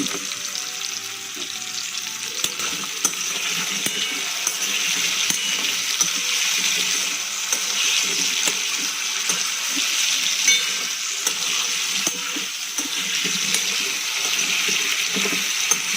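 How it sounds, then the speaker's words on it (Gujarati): Potatoes and onions are stirred into a sizzling soya vadi pulao pot, giving a constant bright frying hiss with irregular scraping and stirring clatter, close and loud throughout. "આપણે જે બટાકા અને ડુંગળી કાપીને રાખીએ છીએ એને આપણે આમાં એડ કરી દઈશું. હવે આને બરાબર હલાવી દઈશું."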